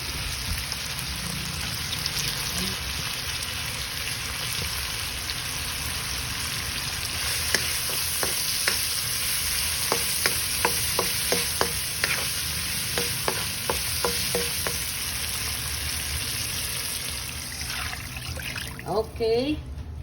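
Already-cooked sausages frying with soy sauce in a pan for sausage mishua, a steady close sizzle with a few sharp spatters and clicks of stirring, and a voice briefly at the end.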